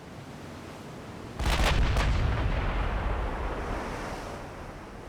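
Battleship main guns fire a salvo in the naval game Ultimate Admiral Dreadnoughts, a sudden loud booming blast of two or three close shots that rolls into a long fading rumble over steady wind and sea noise.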